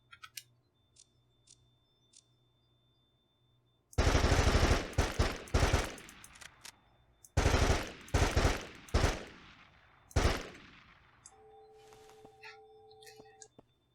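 Bursts of rapid gunfire from a gun in the video game Signs of Life, loud and close, arriving in several volleys separated by short pauses, with quieter ticks and a faint tone before and after.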